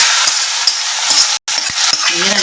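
Fresh curry leaves crackle loudly in hot oil while being stirred for a tempering for mutton liver curry, a dense close sizzle with a few spoon scrapes and one abrupt brief gap.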